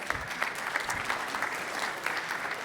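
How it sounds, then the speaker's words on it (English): Audience applause fills the room after the panel finishes speaking, a steady dense patter of many hands clapping at moderate volume with no voices over it. "A round of applause."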